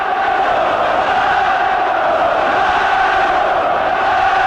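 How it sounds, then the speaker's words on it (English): Boxing arena crowd at a Steve Collins versus Nigel Benn fight chanting for Nigel Benn, a loud, dense, sustained roar of massed voices filling the hall without a break. "Crowd trying to urge Benn on with chants of Nigel, Nigel"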